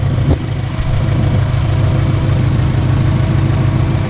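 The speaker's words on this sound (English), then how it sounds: "look at the way that engine ticks over" A JDM Subaru WRX GC turbo engine ticking over at a steady, smooth idle, a loud close low rumble with an even burble and no voices.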